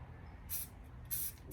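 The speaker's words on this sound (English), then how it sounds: "if you're going to be doing an intense spray like that with a whole bunch of color, sometimes you want to put on a mask" Spray paint mist is sprayed onto recycled jars for hydro dipping: two short, loud hissing bursts about half a second apart over a low background rumble.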